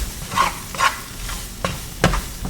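Seasoning stirred into onions frying in a pan: a low, constant sizzle under four distinct scraping strokes of a utensil against the pan, heard close and clear.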